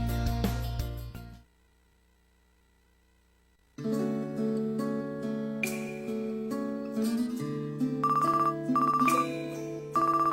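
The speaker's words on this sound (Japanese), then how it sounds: "電話か。" A telephone rings inside the PSP visual novel Oreimo as a bright, melodic electronic ringtone. It plays clearly, breaks off into near silence for about two seconds, then resumes and continues steadily.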